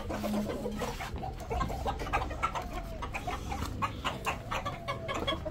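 Several chickens cluck close by in a busy, irregular chorus as they are let out of their coop, with scattered rustling and no talking.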